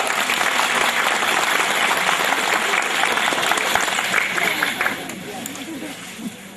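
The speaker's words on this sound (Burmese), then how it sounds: "လက်ခုပ်တီးပါခင်ဗျာ" Audience applause from a live event crowd, a dense steady clapping that fills the room for about five seconds and then thins toward the end.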